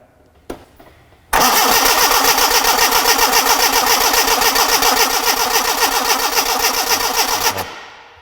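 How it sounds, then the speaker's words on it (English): A classic Mini campervan engine cranks over without firing, a rapid rhythmic churning from the starter that runs loud and close for about six seconds after a short click, then stops. "Right, give it a crank."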